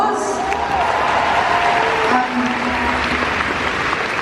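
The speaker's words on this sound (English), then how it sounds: "Fan questions, round of applause." Audience applause at a Doctor Who fan panel with David Tennant, steady clapping from a large crowd filling the room, sustained without a break and mixed with faint crowd murmur.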